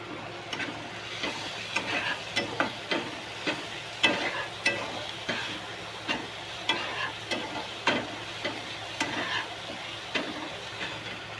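Onion and tomato frying in a pan, with a steady sizzle under repeated rhythmic scraping strokes of a spoon stirring the mixture, close and continuous.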